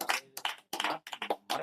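A congregation claps hands loudly during a Telugu Christian prayer service, several bursts of close, dense clapping separated by brief pauses.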